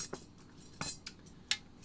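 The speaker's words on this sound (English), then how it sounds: "Let's get the right teaspoon out here, Marlene." Metal teaspoon clinking against other cutlery as it is pulled from a drawer while baking soul cakes, several short bright taps spaced apart, fairly faint and close.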